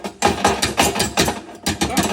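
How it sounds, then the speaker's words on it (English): Carbon chunks are dumped out of an RV furnace burner, producing a rapid series of clattering knocks and rattles about a few times per second. The sound is close and fairly loud. "I'm gonna dump it and see how much carbon coming out of it"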